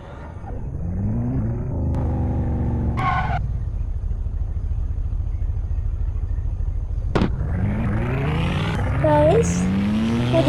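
A car in a Los Angeles crime video game cruises with a steady engine rumble, punctuated by short tire skids and a rising rev toward the end, all fairly loud with no talking.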